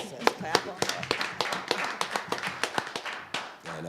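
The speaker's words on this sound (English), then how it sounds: "Let's clap on that" Scattered audience clapping at a city council meeting, a couple dozen uneven claps over a few seconds with murmuring voices beneath, moderately close in a room.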